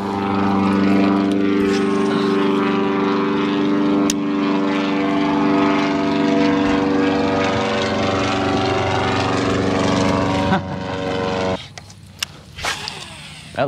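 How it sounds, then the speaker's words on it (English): A propeller airplane passes low overhead above a lake during a bass fishing tournament, a loud droning roar that holds steady and then fades off toward the end. "Look at that fucking plane."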